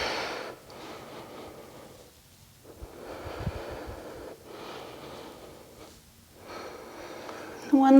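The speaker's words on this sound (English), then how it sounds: "Several breaths here." Slow, deep breaths during a vinyasa yoga practice, each a long airy exhale pulsing in cycles a couple of seconds apart, close and fairly soft, with a short snort-like burst partway through.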